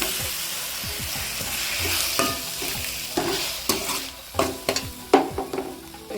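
Onions sauté in a pan for broad beans thokku, sizzling steadily at close range. A spoon stirs and scrapes through them, and the knocks grow sharper toward the end.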